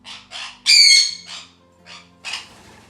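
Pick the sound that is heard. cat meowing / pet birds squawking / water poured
pet birds squawking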